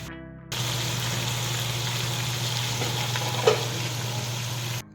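Leftover anchovies and milkfish sizzle steadily in a hot pan, a loud even hiss with a low hum beneath it and a brief clatter near the end, with no talking.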